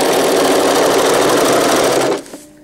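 Sewing machine stitching elastic onto pocket diaper fabric, a loud, close, rapid mechanical whirr running steadily before stopping abruptly, leaving a few faint clicks.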